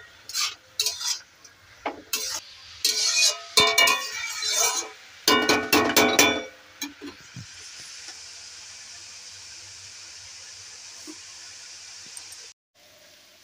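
Pumpkin curry with green chilli and turmeric frying in a karai, stirred with a utensil that scrapes and clinks against the pan in bursts, followed by a steady sizzle.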